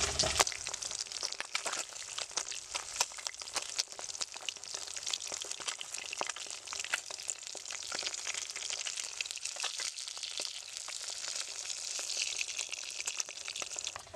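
Pabda fish fry in hot oil in a pan, a continuous close crackling sizzle with dense spattering pops throughout, no talk.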